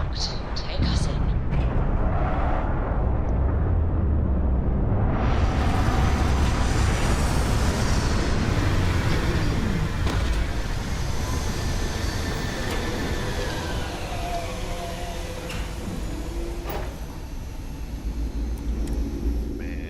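Spaceship setting down on a cold planet in the video game Starfield, a loud sustained roar and rumble with a swelling whoosh midway, continuous and close throughout.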